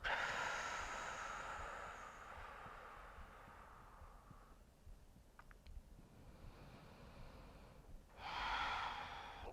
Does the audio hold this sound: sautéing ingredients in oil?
no